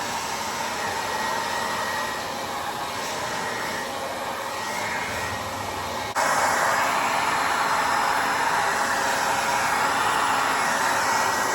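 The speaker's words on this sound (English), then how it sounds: "my husband from another world is going to give a blow dry on my hair" Hair being blow-dried with a hand-held dryer: a steady, loud whooshing drone that continues throughout and jumps louder partway through as the airflow or setting changes, with no talking.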